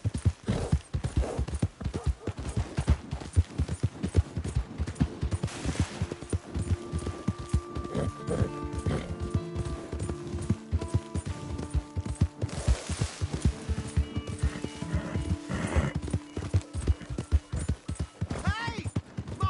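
Horse galloping in the video game Red Dead Redemption 2, rapid loud hoofbeats pounding in a continuous rhythm, with neighs and game music partway through and brief talking.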